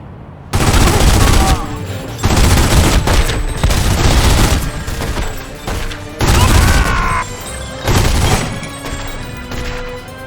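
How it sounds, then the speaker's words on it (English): A Tommy gun in The Godfather video game fires loud, sustained automatic bursts, several long volleys separated by short pauses, close and dominant over the game's background sound. "Let's use this Tommy gun."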